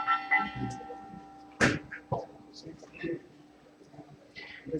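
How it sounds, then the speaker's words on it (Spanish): A bell rings out once with a lingering metallic hum, followed by a voice speaking and a few faint clanks. "Se pasan las campanas."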